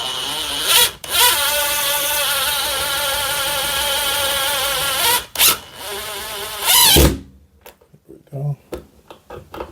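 Power drill driving a screw into drywall, a loud close whine that runs several seconds, stops briefly, then revs again in short bursts before quieting to small handling noises.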